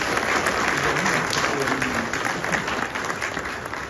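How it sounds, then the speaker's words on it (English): Steady, full applause from an assembled audience for a king at a formal courtesy call on a president, continuous clapping at close range for a few seconds. "Shall we please give His Majesty a round of applause"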